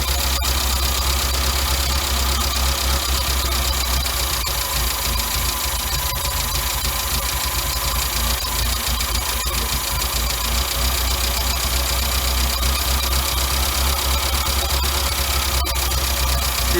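A car engine fitted with a Weber carburetor idles steadily and close up while the air screw is adjusted, a continuous low rumble with faint periodic ticks and no one speaking.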